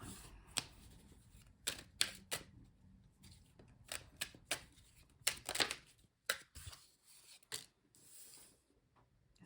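A deck of tarot cards being shuffled, with irregular bursts of crisp riffling and snapping card noise, close up and fairly quiet, separated by short pauses.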